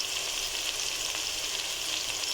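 Garlic and carrots frying in a pan give off a steady, close sizzle that holds even and unbroken throughout, with no voices over it.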